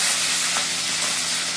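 Chopped green chilies sizzling in hot oil in a pan, a steady close crackling hiss that carries on without a break and without any talk.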